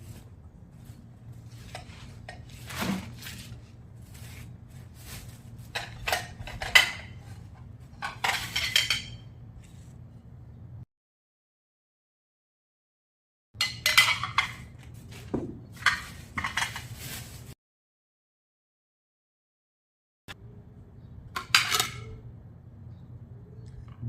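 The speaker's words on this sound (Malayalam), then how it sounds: "ഇത് ഭയങ്കര വെയിറ്റുമാണ്, പൊട്ടുന്ന പ്ലേറ്റ് ആവുകൊണ്ട്." Heavy breakable ceramic plates clink and clatter as they are handled and stacked, in bursts of close, bright knocks separated by silent gaps.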